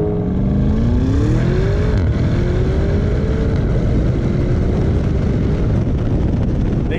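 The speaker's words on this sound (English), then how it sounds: "And you can hear it's louder. It's louder, it's more exciting." Lamborghini Urus twin-turbo V8 engine and exhaust revving loudly as it accelerates, with rising and falling tones across upshifts and wind noise throughout, no voices over it.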